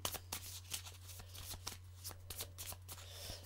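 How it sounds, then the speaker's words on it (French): Tarot cards being shuffled by hand, a steady run of soft riffling and flicking bursts close up, with a low constant hum underneath and no talking. "on passe en mode mélanger les cartes"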